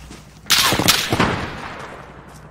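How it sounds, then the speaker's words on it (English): Sharp gunshots crack in quick succession in an online shooter game, a cluster of loud reports with a short ringing tail that fades into quiet. "there's someone with a sniper"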